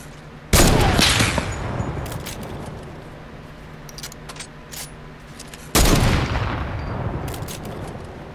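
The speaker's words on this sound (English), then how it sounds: "Somebody's literally shooting at you." Two loud bursts of gunfire in the Fortnite battle royale video game, each a sharp crack that decays over several seconds, spaced about five seconds apart, with fainter scattered shots between them and no talking.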